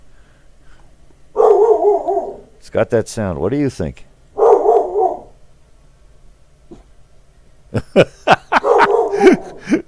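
Several barks from a dog being walked out on the street come in short bursts, muffled and moderately distant, between stretches of a person talking close by indoors.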